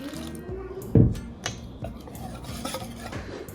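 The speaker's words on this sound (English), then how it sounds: "Now I'm going to add 2 cups of water. I'm gonna mix it again." A utensil scraping and sloshing through thick wet pakora batter as water is mixed in, with a knock near the start and soft irregular stirring sounds after.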